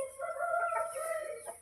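Backyard chickens crow and cluck loudly and close by in a continuous, overlapping stretch, with a rooster's call standing out and no voices present.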